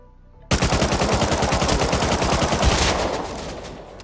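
Rapid automatic gunfire in Rust Console, a dense, loud burst of evenly spaced shots that starts abruptly and rattles on for about three seconds before trailing off.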